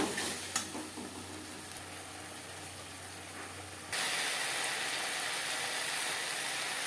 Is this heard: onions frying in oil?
yes